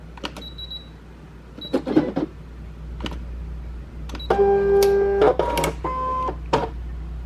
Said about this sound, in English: Now we cross our fingers that I can load it into the machine, one-handed.